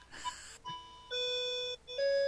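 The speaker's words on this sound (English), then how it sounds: "you hear my lovely old-fashioned clock chiming in the background" An old-fashioned clock chimes indoors with clear, sustained bell-like tones, several distinct notes stepping through a short melody at moderate loudness, no voices over it.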